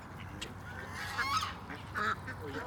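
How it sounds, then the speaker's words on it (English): A Canada goose gives a few faint, nasal honks among wildlife at a pond where ducks are being fed, with light background noise and no talking. "there's a Canadian goose right there"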